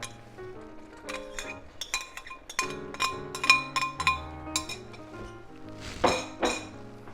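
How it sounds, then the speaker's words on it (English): Clinking of a utensil against a pan or dishes while mushrooms go back into a pancetta and mushroom risotto, a quick series of bright, close metallic taps with a louder cluster near the end. "I'm going to add the mushrooms back in."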